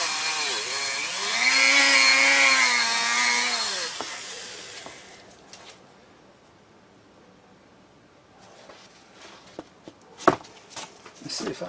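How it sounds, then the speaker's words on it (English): A Dremel rotary tool with worn bearings whines loudly for a few seconds with a wavering pitch, then spins down, followed by faint shop clatter and clicks. "gonna have to replace the bearings on this Dremel"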